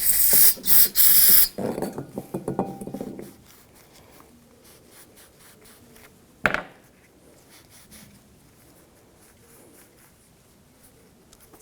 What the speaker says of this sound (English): I'm just going to use some brake parts cleaner and a rag.